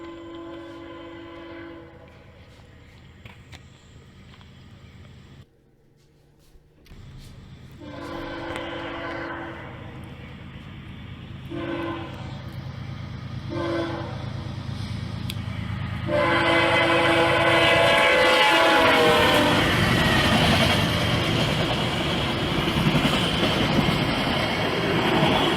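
CSX freight train Q205 approaches and passes, sounding repeated loud horn blasts in several bursts before the rumble and clatter of cars swell and fill the rest of the long pass.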